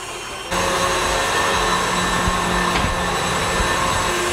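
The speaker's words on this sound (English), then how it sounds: "now we're going to use our stand mixer to beat this until it's light and fluffy like this." A stand mixer beats meringue for a drip cake, switching on abruptly and then holding a loud, steady motor whir with a faint whine, continuous and close.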